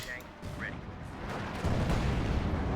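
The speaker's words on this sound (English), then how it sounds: "Mines going off as well." Mines exploding in the video game Company of Heroes 2, muffled battlefield booms and gunfire building under a commentator's voice, growing louder toward the end.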